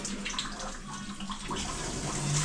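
Water pouring steadily in a bathroom from a broken shower, a moderate splashing flow with small irregular spatters throughout.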